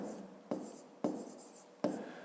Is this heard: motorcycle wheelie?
no